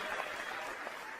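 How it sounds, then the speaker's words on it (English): Steady wash of applause from a fake studio audience, even and continuous with no voices over it. "Thank you for that hearty applause from our fake audience."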